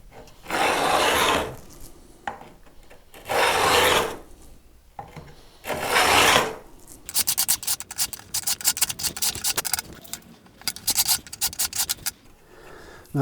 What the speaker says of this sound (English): use the file to bevel the ends of the frets over